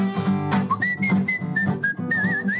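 A professional stage whistler performs a quick, lively melodic line, bright gliding notes that rise and fall over a soft musical backing.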